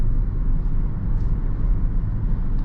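A 2018 Land Rover Range Rover in S mode on a test drive, its engine a steady loud low rumble with road and cabin drone, continuous and unbroken, with no voices over it.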